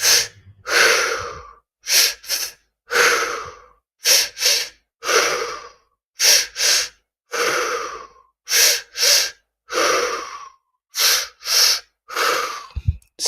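Slow, deep breaths during a guided breathing exercise, about a dozen loud, close inhales and exhales in a steady rhythm with short pauses between, heard alone.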